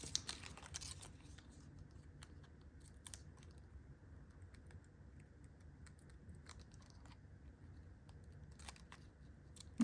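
Scissors cut a few small pieces for a homemade recipe cookbook, making faint, sparse, crisp snips against a quiet room background with no talking.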